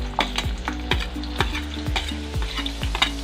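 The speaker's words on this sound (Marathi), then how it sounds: "आता आपण कांदा भाजण्यासाठी टाकायचा" Onion frying in a pan of oil for a spiced raw-banana curry, a steady close sizzle broken by repeated scraping stirs about every half second, with no talking.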